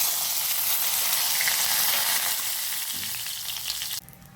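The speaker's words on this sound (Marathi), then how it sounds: "आपण त्यात टाकणार आहोत जिरे असे भाजले की त्यात आपण टाकणार आहोत हे सगळे मसाले" Cumin seeds fry in hot oil for jeera rice, a loud, steady crackling sizzle close by that suddenly drops much quieter near the end.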